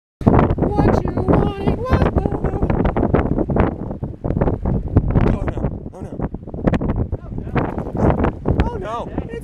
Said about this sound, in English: But look at the ocean. It's really windy.